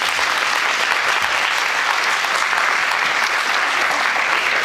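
A crowd at a Polish awards announcement for a volunteer website contest claps loudly and evenly throughout, a dense continuous patter of many hands close by, with no voices rising above it.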